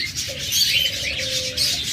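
Doves coo and chirp in a busy bird shop selling pairs of cool doves, a steady chorus of birdsong with bright twittering and a low cooing line running throughout, no talk.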